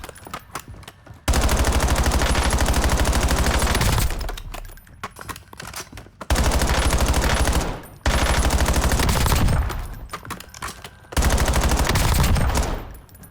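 Automatic weapons fire at a shooting range in the Warzone video game comes in four loud, sustained bursts separated by short quieter gaps, with no talking.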